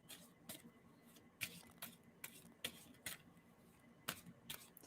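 Tarot cards shuffled by hand in a quiet room, a series of soft, irregular riffling snaps and slides, close but faint.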